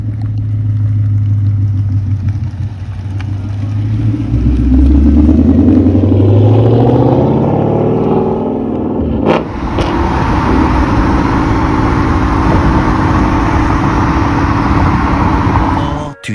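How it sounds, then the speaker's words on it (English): A 2021 Mustang GT with Stainless Power long tube headers revs loudly up close, rising and falling engine sweeps in the first half, then a steady heavy rumble continues to the end. "these headers, they should make the car extremely loud"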